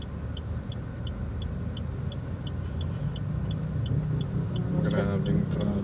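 Heavy road traffic in the rain in Zamboanga City, a steady low rumble of engines and tyres with constant rain noise, regular faint beeping pulses throughout and a louder horn-like blare near the end; people talk intermittently.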